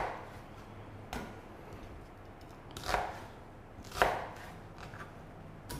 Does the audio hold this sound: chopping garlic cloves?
yes